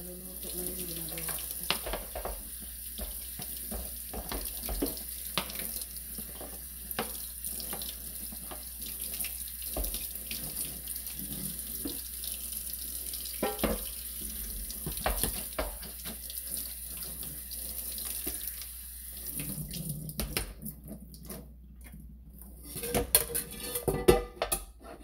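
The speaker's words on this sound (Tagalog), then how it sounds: "Lugasan ko muna na malamig na tubig." Cold tap water runs into a sink to rinse cooked macaroni, a constant splashing flow with occasional clinks of dishes and utensils, and a louder clatter near the end.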